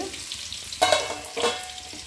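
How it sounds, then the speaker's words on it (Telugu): Tempering for dal fries in a pan at home, a close crackle and sizzle with two brief bursts of stirring scrapes, no talk. "తాలింపు పెట్టాలి ఇంకా సో ప్రస్తుతానికైతే ఫ్రై చేస్తున్నాను"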